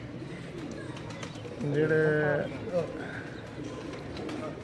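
An old pigeon, held in the hand, coos in a short, close rolling burst over steady background noise, with someone speaking briefly around it.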